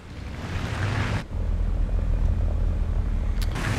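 Steady roar of a J8A jet engine in War Thunder air arcade play, a loud continuous rushing drone with a brief dip partway through, then resuming at full strength.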